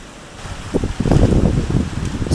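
Storm wind gusts roughly in the open as a thunderstorm builds, a broad rushing roar that swells louder after the first second and stays strong, buffeting the microphone.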